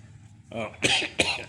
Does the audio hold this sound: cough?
yes